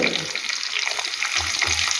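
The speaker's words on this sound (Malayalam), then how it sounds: "വെളിച്ചെണ്ണ ഒഴിച്ച് ചൂടാവുമ്പോൾ അതിലേക്ക് ചുവന്നുള്ളി ഇരിഞ്ഞത്" Hot coconut oil sizzles and crackles steadily as sliced shallots fry in a pan, with a soft bubbling hiss and occasional light clatter.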